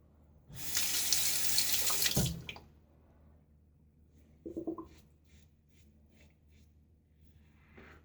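Water runs hard from a bathroom tap into a sink for about two seconds while someone rinses after a shave, then stops. Close splashing, a brief snort-like rinse and small drips follow in a quiet room.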